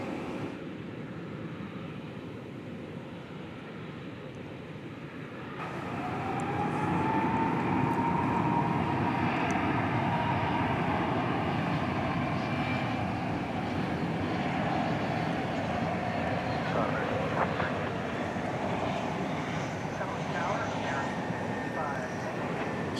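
A Qatar Airways airliner takes off from DFW Airport at night, its engine roar swelling sharply and holding as a loud, sustained rumble with a rising whine. A voice talks briefly over it.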